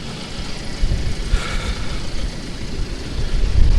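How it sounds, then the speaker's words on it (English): A Mahindra Roxor's diesel engine runs steadily with a broad rumble, its low growl mixed with wind noise on a windy day and rising slightly toward the end. "I just love the sound of the diesel engine"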